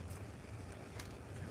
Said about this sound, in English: It's quite windy, huh?